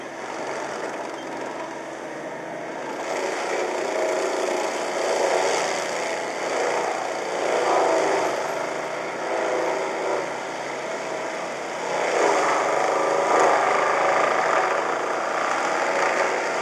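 A juniper mastication head mounted on a tracked skid steer shreds juniper, a steady loud mechanical roar and grind that swells in waves over the whole stretch, with no talking.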